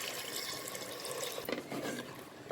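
Tamarind water poured into a pan of spicy fish curry, a steady liquid splash and trickle running throughout with a few brief spattering accents near the end, close and moderately loud, no voices.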